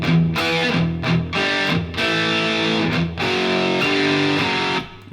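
A heavily distorted electric guitar plays a chunky riff of sustained power chords with short choppy breaks, loud and alone.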